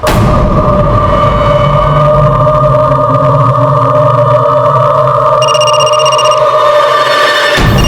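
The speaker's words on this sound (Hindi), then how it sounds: "किसका फोन है?" A telephone rings with a steady electronic tone held for several seconds, fairly loud, with no talking over it.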